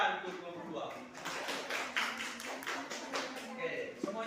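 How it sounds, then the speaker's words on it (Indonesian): A class claps for group 2 in a school lesson, a burst of scattered, uneven handclaps rising after a second and continuing fairly close and moderately loud, with voices mixed in. "Oke, tepuk tangan untuk kelompok 2."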